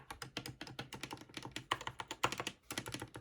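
Typing on a mechanical keyboard with yellow non-lubed switches makes a rapid, uneven run of close, crisp key clacks that goes on steadily with only brief gaps.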